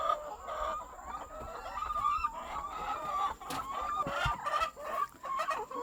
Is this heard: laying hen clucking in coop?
yes